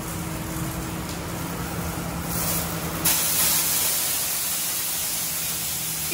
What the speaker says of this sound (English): activating the rinse